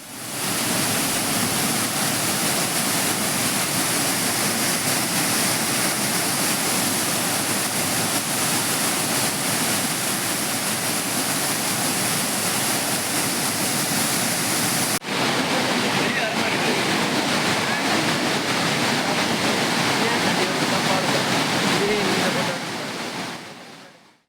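Courtallam waterfalls in Tenkasi district in flood, a steady, loud roar of heavy cascading water that continues without a break, with no voices over it.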